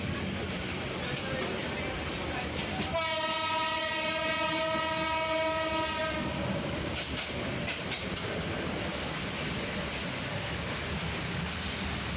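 The Meghna Express passenger train runs on the Chandpur to Chattogram line, giving a continuous loud rumble of wheels on rails with a long, sustained locomotive horn blast in the middle, heard from close by.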